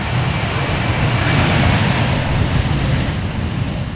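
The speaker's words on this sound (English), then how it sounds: "Little application of reverse thrust there by the Shamrock A320." An Aer Lingus Airbus A320 applies reverse thrust on landing at Amsterdam Schiphol, a loud, steady broadband jet roar that swells slightly mid-way and holds without a break.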